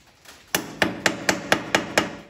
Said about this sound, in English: Using this dead blow hammer again.